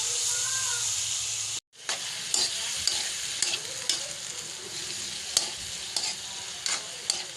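Bullfrog meat fries in a hot pan, a continuous hissing sizzle broken by repeated scraping stirs and clinks, after a brief cutout near the start, with no talk.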